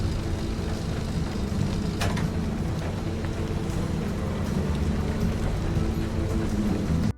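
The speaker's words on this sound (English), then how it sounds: "you hear the rain bouncing off the metal sheeting panels of the building" Steady rain patters on the metal sheeting panels of a building in the video game Pacific Drive, a dense, even hiss of drops with a low rumble underneath and no voices.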